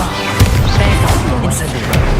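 Levioso spell cast during Hogwarts Legacy gameplay, a dense roar of low thuds and crashes with a soft impact near the start, steady and loud throughout.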